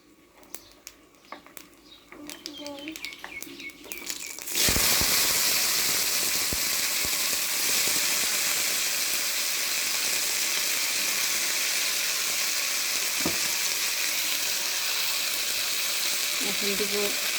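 Bot-boti beans hit hot oil with black cumin, bursting into a loud, steady sizzle after a quieter start with a few clinks and chirps, the crackle continuing close for the rest.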